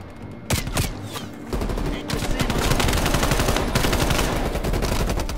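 Rapid automatic gunfire from a Black Ops Cold War firefight, dense bursts and loud shots rattling almost continuously, near and sustained, with faint voices mixed underneath.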